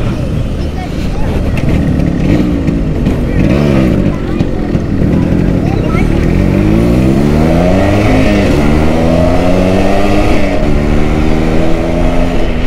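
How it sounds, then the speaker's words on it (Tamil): A vintage Yamaha RX135 motorcycle on a test ride, its engine loud and close, climbing through several rising revs with gear changes, a voice talking underneath at the start. "வண்டி டெஸ்ட்டாக போயிட்டு வீடியோ முடிச்சுக்கிறேன்"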